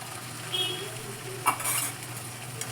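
Boiled mutton keema stirred into spiced vegetables in a pan: a soft continuous sizzle with a couple of light utensil clinks and scrapes, close and moderate in level, with no speech.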